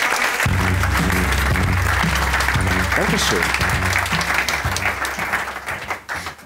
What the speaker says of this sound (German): bitte begrüßen Sie mit einem warmen Stuttgarter Applaus